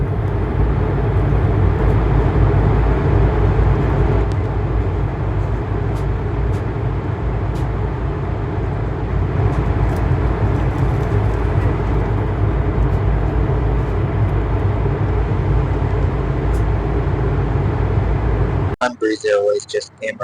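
Steady, loud broadband roar of a Breeze Airways airliner cabin climbing over the Florida Everglades, with a continuous low engine drone throughout, cutting out abruptly near the end.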